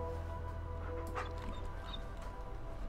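Dogmeat, the dog companion in Fallout 4, gives a faint whimper over a droning game ambience and background music, with no speech.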